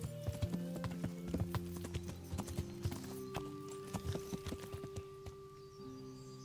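Horse hooves clip-clopping in a medieval role-playing video game, a steady rhythmic trot of sharp, close hoofbeats over a faint tonal game soundtrack, with no talk.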